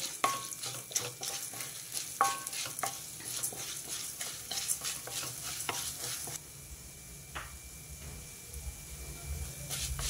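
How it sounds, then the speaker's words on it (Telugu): Urad dal, coriander and cumin seeds dry-roasting in a pan, stirred with repeated scraping and rattling strokes over a low sizzle, close by; the stirring stops partway, leaving a quieter hiss. "ధనియాలు జీలకర్ర వేసేసా. ఇవి కూడా కొంచెం వేగాలి."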